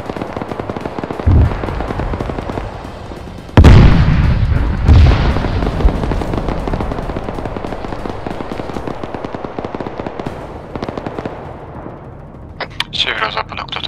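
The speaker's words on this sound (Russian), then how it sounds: "Танк работает. Он меня накрывает." Tank cannon shelling a player in ArmA 3, heavy booming impacts landing close with a loud blast, then a lingering rumble and scattered gunfire, with someone talking over the action.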